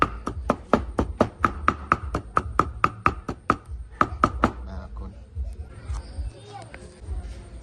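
A knife chops garlic on a cutting board while a Cambodian stir-fry is being prepared: about eighteen close, crisp, evenly spaced strokes, then the chopping stops and a voice talks over faint kitchen clatter.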